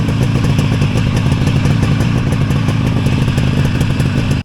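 Motorcycle engine running steadily on a shakedown test ride after carburetor repair, loud and close with continuous rumble and some clatter, cutting off abruptly at the end.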